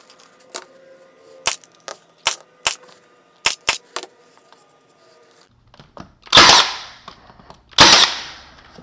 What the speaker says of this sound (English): pin nail these corners nice and tight with the Milwaukee pin nailer